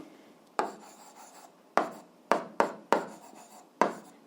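Pen strokes on a surface while the conditions of a grade 8 physics problem are written down: six short, sharp scratching bursts in an irregular rhythm, close and fairly quiet, with no talking.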